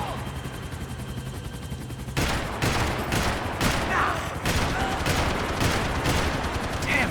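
A heavy Max Payne 3 gunfight with cartel gunmen in a club breaks out after a quieter start, with loud sustained automatic fire and dense shots continuing under brief, faint voices.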